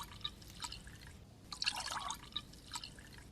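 Red-coloured liquid poured slowly into a toy volcano, heard as faint trickling and dripping in soft bursts, quiet and close.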